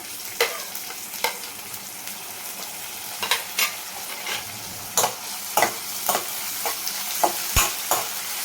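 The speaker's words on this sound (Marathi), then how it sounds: "कांदा परतून घ्यायचा आहे कांदा थोडासा ब्राऊन होत आला की टोमॅटो घालून घेते" Onion and tomato sauté in oil for a black pea (kala vatana) bhaji. A continuous close frying sizzle runs under repeated sharp scrapes and clinks as a spoon stirs the pan at an irregular pace.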